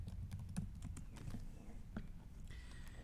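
Quiet, close typing on a computer keyboard, a quick irregular patter of light key clicks entering text into a browser search.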